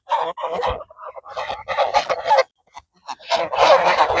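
Domestic geese kept by farmers honk loudly and close by in repeated harsh bursts, several calls overlapping with short gaps between them.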